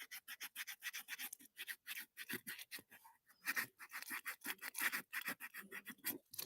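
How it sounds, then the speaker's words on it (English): Sandpaper rubbing over the leather of cowboy boots in quick back-and-forth rasping strokes, close and intimate, steady rhythm with a brief pause midway, no talking. "I want to take it off altogether and then sand it down"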